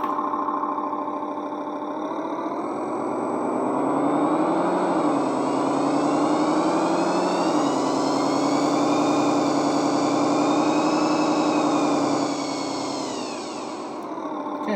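Simulated diesel engine from a sound card in an RC Cat 730 articulated dump truck, a steady loud drone that climbs and settles in pitch as the throttle changes, then drops off near the end.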